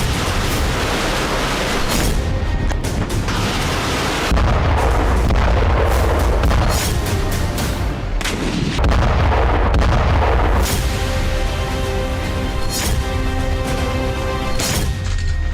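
Ukrainian artillery shelling produces loud, dense, repeated booms and blasts that overlap into a continuous roar of heavy fire.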